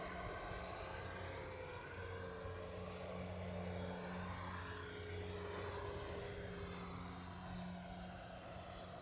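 A modified Hobby King Durafly Vampire V3 70mm electric ducted fan RC jet flies at a distance, giving a faint, steady whine whose pitch slowly sweeps up and down over outdoor background noise.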